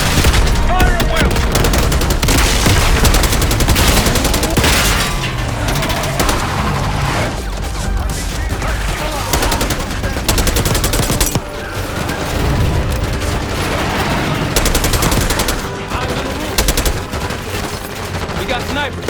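Dense, loud gunfire in Call of Duty Black Ops 6: sustained automatic bursts and booming shots overlap almost without pause throughout, forming a continuous wall of combat noise.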